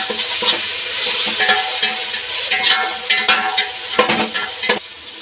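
Garlic and ginger paste sizzles in a pan for a chicken biryani while a spoon stirs it, with scraping strokes and crackling bursts at close range and no talking.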